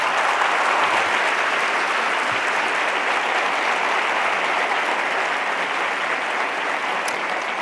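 Sustained audience applause at an institutional presentation event, a dense, even wash of many hands clapping throughout, loud and continuous with no voices over it.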